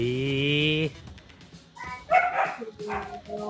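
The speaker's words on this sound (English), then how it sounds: "Whose dog was that barking?" A puppy's bark in a home, a short high-pitched yip heard in the middle of the clip, partly masked by a sustained tonal sound that fills the start.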